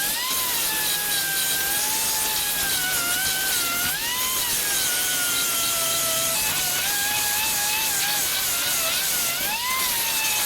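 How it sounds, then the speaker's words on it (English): Rusty Toyota car body being sanded by hand, a steady loud abrasive rasping that continues without break, with a whining tonal ring drifting in pitch throughout. "Now I'm giving it a sand back."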